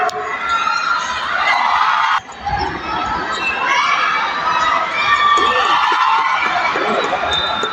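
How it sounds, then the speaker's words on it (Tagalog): A Filipino crowd cheering for Gilas Pilipinas against New Zealand at a FIBA Asia Cup basketball game in Jeddah, with loud sustained shouting and cheers from a packed arena and a brief dip partway through. "Sobrang init talaga ng suporta ng kapwa nating Pilipino sa Gilas Pilipinas. O diba, tudo hiyaw talaga."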